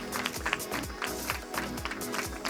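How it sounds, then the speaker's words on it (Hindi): An audience applauds the actor Atul at a Hindi film press conference for The Kashmir Files, a dense, continuous patter of clapping from a crowd throughout. "अतुल जी के लिए जोरदार तालियां हो जाए"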